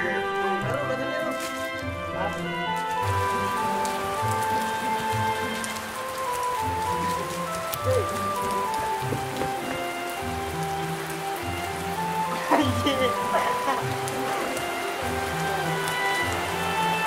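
Heavy rain falls steadily throughout as a dense, constant wash, with faint background sounds and possible muffled voices beneath it.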